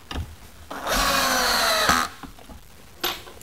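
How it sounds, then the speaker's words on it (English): A power drill drives a screw to fasten a post-and-beam connector bracket onto a vertical wooden post: a close, steady whirring run of about a second, with short knocks and handling noise before and after. "Once we located where the bracket has to be positioned on the vertical post, we simply screw it on."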